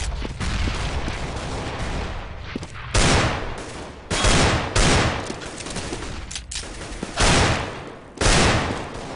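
Desert Eagle pistol fire in a Counter-Strike match at a 2013 tournament: loud gunshot bursts crack out in several separate volleys over a constant backdrop of in-game gunfire and noise, with no talking.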